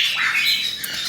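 A six-week-old baby parrot gives one loud, harsh, sustained squawk up close, with no voices around it.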